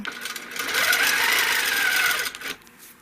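A sewing machine stitches a ribbon candy pattern in a steady, fast, even whir that holds for over two seconds, then stops abruptly.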